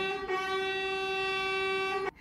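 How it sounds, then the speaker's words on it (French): A truck horn blares outside in one long, steady honk lasting about two seconds. It is clear and moderately loud, then cuts off abruptly. "Ça m'énerve, ce klaxon, ce camion-là."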